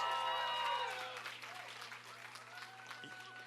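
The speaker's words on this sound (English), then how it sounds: "Give them a round of applause." Crowd applause at a political campaign event honouring field staff, a steady wash of clapping that starts strong and slowly tapers off as the room settles.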